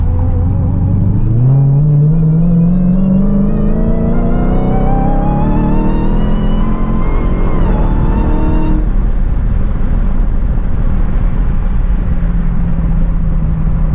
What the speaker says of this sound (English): Driving the Hellcat around town